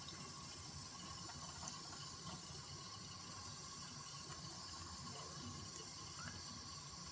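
Tap water runs steadily into a sink for a young ragdoll mix kitten to drink, a faint, continuous splashing stream with no voices.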